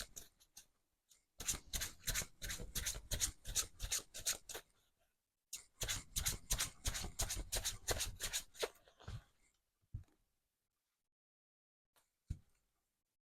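Golden Tarot cards being shuffled up close in two long bursts of rapid riffling, each several seconds, followed by a few isolated taps and quiet gaps.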